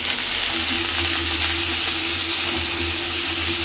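Food fries in a pan with a loud, continuous, close-up sizzle that stays even throughout, over a low steady hum.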